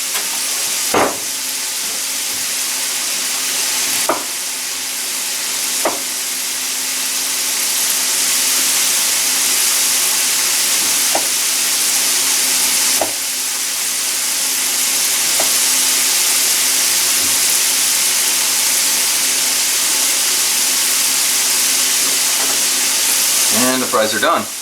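French fries bubbling in hot oil, a steady loud broadband sizzle throughout with occasional sharp clinks and stirring knocks, close up and uninterrupted.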